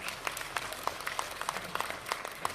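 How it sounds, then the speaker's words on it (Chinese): Applause rises from a live audience at a game prototype presentation, a scattered patter of individual claps at moderate distance rather than a full roar. "请大家给些掌声好不好？"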